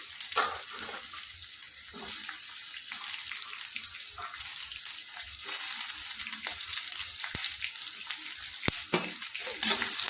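Ridge gourd pieces frying with peanuts in a pan for a chutney, a steady soft sizzle throughout with occasional scrapes and clicks from stirring, fairly quiet and close.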